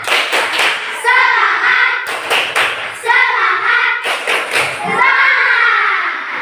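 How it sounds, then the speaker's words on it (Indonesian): Fourth-grade class of children doing the tepuk semangat clap, three crisp claps followed by shouted chanting, repeated in three cycles, loud and close. "Tepuk semangat."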